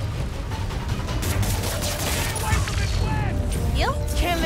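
Gunfire from an enemy's gun during a Spider-Man: Miles Morales game fight, dense rapid shots and booms over a loud, continuous game soundtrack, up close.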